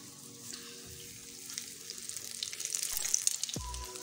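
A vegetable omelette sizzles and fries in a pan over medium heat, a soft steady crackle that builds slightly with scattered pops, followed by a brief low thump near the end.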